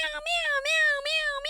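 A person imitates a cat, voicing a run of four drawn-out meows one after another, close and clear with short gaps between them.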